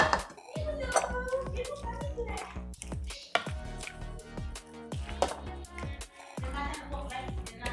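Chicken being mixed by hand with chili powder, coriander and salt for homemade tandoori chicken, giving wet squishing and repeated clinks of a spoon or bowl, close and intermittent, with a voice speaking at times.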